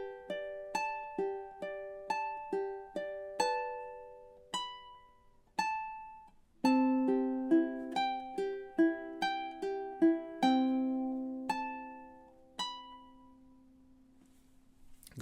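A ukulele picks out Spanish Romance note by note, bright plucked tones ringing close, with a lower run of faster notes in the second half before it fades.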